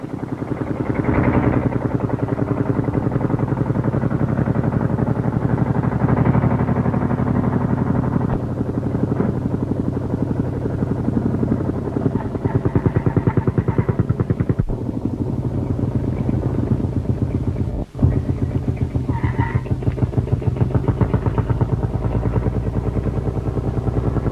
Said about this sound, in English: heavy single-disc ploughs, drawn by tractors and working sometimes 7 or 8 abreast